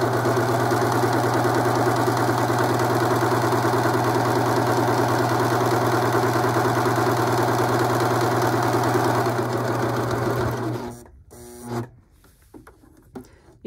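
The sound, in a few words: Viking sewing machine sewing and cutting fabric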